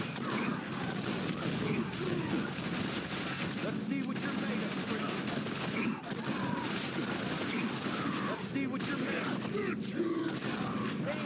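Close-range shotgun blasts and gunfire in the Quake 4 video game recur as sharp bursts every couple of seconds over a dense bed of game noise and combat effects, with someone talking at points.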